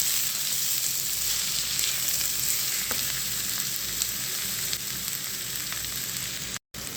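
Two large finely chopped onions frying in hot ghee, a steady close sizzle with light stirring crackles running throughout without talk, broken by a brief dropout near the end.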